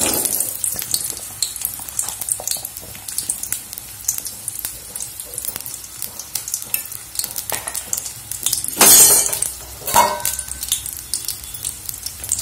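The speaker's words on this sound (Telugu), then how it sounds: "ఈ కాకరకాయ ముక్కల్ని మనం ఫ్రై చేసుకుందాం" Bitter gourd pieces fry in hot oil for kakarakaya curry. A steady crackling sizzle carries throughout, with occasional stirring and clinks of a utensil against the pan.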